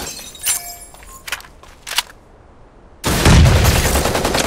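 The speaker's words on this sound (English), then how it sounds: "I hear gunfire." A few sharp synthetic gunshots crack out in the video game Super Mecha Champions, then a sudden loud burst of sustained noise like heavy fire or an explosion takes over.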